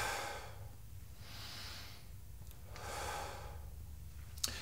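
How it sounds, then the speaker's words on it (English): Two long, airy exhalations during a beginner full-body workout, each a soft whooshing breath of about a second, close to the mic and alone without speech. "Now I'm gonna breathe in and then breathe out."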